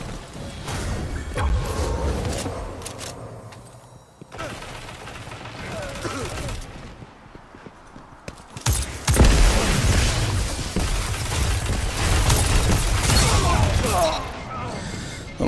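Scout rifle hip fire in the shooter game Destiny rattles out in bursts of rapid shots, loud and close, with a lull in the middle before heavier sustained firing, under occasional talk.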